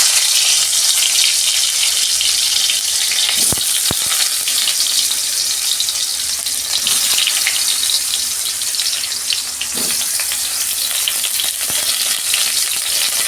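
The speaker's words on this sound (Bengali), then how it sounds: "আমি করলাগুলো ভেজে নিচ্ছি।" Stuffed bitter gourds fry in hot oil in a kadai, a loud, steady, dense sizzle filling the whole stretch, with a few sharp clicks and knocks of a utensil now and then, no voices.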